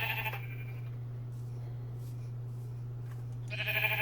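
A sheep bleating twice in a Minecraft modpack game, one short bleat at the start and a longer one near the end, over a constant low electronic hum with quiet gaps between.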